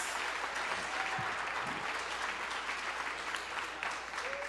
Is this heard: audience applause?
yes